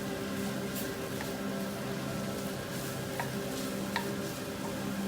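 Mutton liver crisps in a pan with a continuous soft sizzle and crackle, broken by a few light stirring clicks and scrapes, close and moderately quiet, with no voices.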